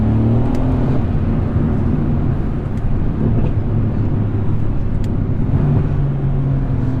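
A 2017 Mercedes C63S drives along with a loud, steady engine drone and road roar heard from inside the car, holding an even level throughout with no voices.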